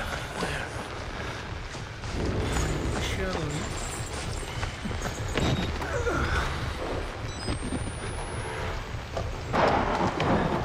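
Thunder rumbles with steady rain in the horror video game Outlast, a dense, continuous roar from near the listener that swells toward the end.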